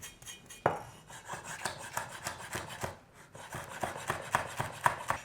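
Knife finely slicing red chilli on a cutting board, a quick series of light, crisp taps and scrapes at close range, steady and rhythmic.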